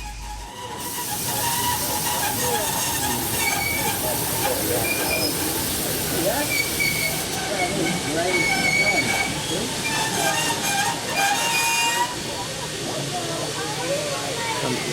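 Two steam locomotives, 3526 leading, haul a train into Branxton during the Hunter Valley Steamfest, with loud hissing steam, rumbling wheels and squealing rails close by, and a voice speaking over the noise.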